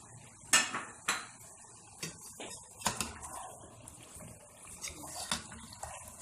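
Tamarind and potatoes drop into a metal cooking pan for a spicy chicken biryani, making several sharp clanks and knocks of spoon against pan with wet scraping between them, close and fairly quiet.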